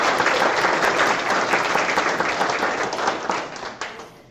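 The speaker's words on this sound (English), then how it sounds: "Please join me once again in a combined round of applause for all their efforts." Applause from a crowd at a practical nursing graduation ceremony, dense and sustained clapping that gradually thins and fades toward the end.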